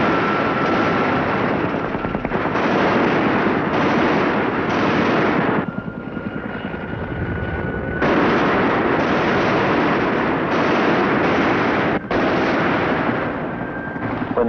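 An aircraft gun system fires its entire magazine into a target on a test range: long, loud, continuous bursts of rapid gunfire with brief gaps between them.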